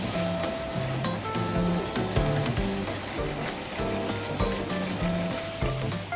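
Mussels cooking in a smoking-hot, raging pan, giving a loud, steady sizzle with crackling bursts and some stirring or clattering of shells against the metal throughout, without any talk.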